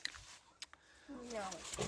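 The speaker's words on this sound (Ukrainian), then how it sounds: "Ой, і з грязними свинями." Pigs grunt and snort on a rural farmstead, close by and fairly quiet, with short rough bursts that build into a busier stretch of grunting near the end.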